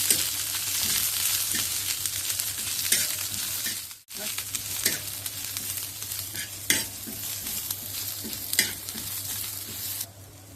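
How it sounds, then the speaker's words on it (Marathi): Chickpeas frying until brown in a pan for a Goan chickpea curry, a loud continuous sizzle near the mic with stirring scrapes and clinks, briefly dropping out once. "हा चांगला ब्राऊन रंगाचा भाजायचा"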